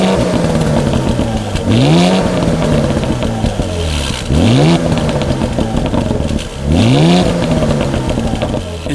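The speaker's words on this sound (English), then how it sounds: "part of the reason that exhaust note sounded as intense as it did was due to the exhaust button I had pressed inside the cabin" A 2016 Porsche Cayenne GTS with its black sports quad exhaust in sport mode revving loudly three times, each blip rising sharply and falling back to a rumbling idle, close and continuous with no talk.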